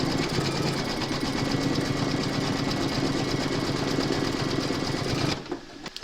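An embroidery machine stitches a securing round on an in-the-hoop bunny slipper, a steady, loud mechanical whir with rapid needle chatter running close and continuous for about five seconds before stopping abruptly.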